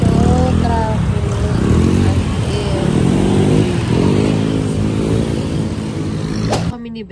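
A motorcycle engine hums steadily and shifts pitch while riding through traffic, close and loud, with a vehicle horn-like tone and wind noise; a person talks over it.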